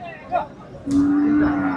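A cow moos at the Faridpur Tepakhola cattle market during the Qurbani trade: a short low call, then one long, loud, steady moo close by.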